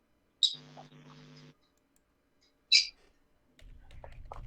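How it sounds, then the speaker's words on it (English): Pet lovebirds give two sharp, high chirps a couple of seconds apart in a quiet indoor room, with some soft low hum and faint noise between them. "Yeah, I can hear the birds, and Lulu's quiet."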